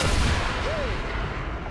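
LOSAT anti-tank missile launch in War Thunder, a loud, dense blast with a rumbling roar that fills the short moment and fades slightly toward the end.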